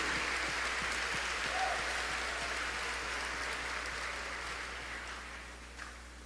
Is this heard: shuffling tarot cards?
no